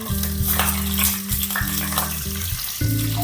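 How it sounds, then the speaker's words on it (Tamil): Whole star anise, cardamom pods and cloves fry in hot oil for a paneer masala, a steady close sizzle with a few scraping stirs and no talk. "2 ஸ்டாரு, 3 ஏலக்காய், 4 கிராம்பு இதை நல்லா வதக்கி விட்டுக்கலாங்க."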